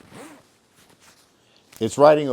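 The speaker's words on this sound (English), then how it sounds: "go to zip this bad boy up" A 5.11 XTU LT3 jacket is zipped up over a duty-style rig in a short, close zip near the start, followed by quiet moments and then a voice.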